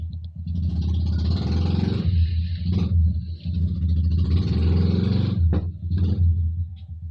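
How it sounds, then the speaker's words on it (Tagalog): A motor tricycle engine rumbles steadily close by for several seconds, its clattering drone holding a low, loud pitch with brief dips as it passes. "Ayan, may tricycle."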